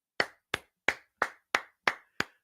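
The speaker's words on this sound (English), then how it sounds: "That's a round of applause for me." Seven sharp, evenly spaced handclaps, close and crisp, each followed by a short fading tail and clear silence between them.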